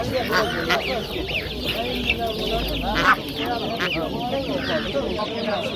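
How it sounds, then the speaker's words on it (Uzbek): Chicks peep and cheep densely at a crowded poultry market in Namangan, Uzbekistan, a continuous chorus of high chirps with clucking fowl mixed in, while someone talks over it. "Mana sovuq jo'jalarimiz"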